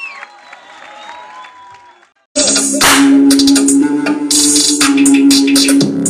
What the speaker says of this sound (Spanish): Un aplauso fuerte por ustedes.